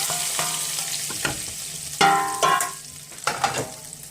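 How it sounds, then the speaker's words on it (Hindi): Spices crackle and sizzle in hot oil as tempering for red lentil dal, with sharp bursts of popping and spitting over a steady frying hiss, some clanks and stirring throughout. "देखिए मैंने इसको ये तड़का लगा लिया"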